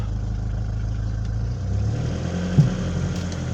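A Renault Laguna 2 with a 1.8 petrol engine is towed away on a rope behind another car, a steady mid-pitched engine drone rising slightly as it pulls off, with one brief clunk and no talking.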